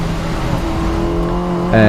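A Mini Cooper S race car engine holds a steady high rev in third gear at Brands Hatch, then jumps sharply louder and higher near the end, loud and close.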